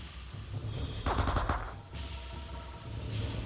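Burst of rapid gunfire in the video game Men of Valor, a short rattling volley of several close shots over steady background game noise.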